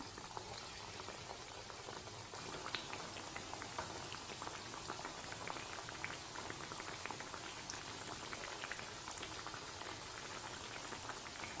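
Moong dal jamun balls deep-frying in oil over a medium flame, a steady dense bubbling sizzle with fine crackling pops, constant and close throughout, with no talking.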